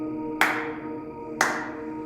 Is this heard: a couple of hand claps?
yes